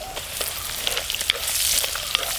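Fish frying in hot oil with crushed ginger and garlic, a steady close sizzle with sharp crackling pops and spatters scattered throughout.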